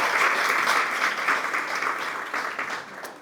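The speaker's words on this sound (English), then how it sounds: "Please, let's give them a round of applause." Applause from a lecture audience at an AI workshop and hackathon event, a steady bright patter of clapping that fades slightly over a few seconds.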